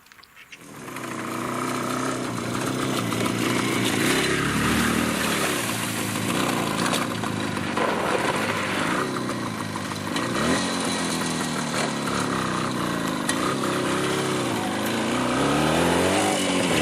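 A motorcycle engine roars steadily and loudly while riding through a swamp, its revving pitch rising and falling with throttle changes and no pause in the engine noise throughout.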